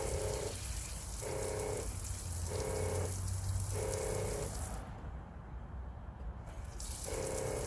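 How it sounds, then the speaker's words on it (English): 12V pump refilling an RV fresh water tank, a steady close rush of flowing water with a pulsing pump hum cycling on and off in regular beats, a brief dip near the end. "When I turn that water on, this pump should come on."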